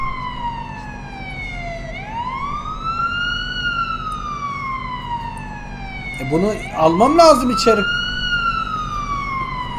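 Ambulance siren in the Police Simulator: Patrol Officers video game, a loud wailing tone sweeping up and down with a horn burst in the middle, heard under someone speaking.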